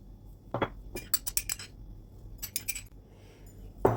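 Ingredients for chilli garlic oil, including salt and a little sugar, being stirred in a bowl: bursts of light metallic clinking and scraping of a spoon against the bowl, close and intermittent with quiet gaps, no voices.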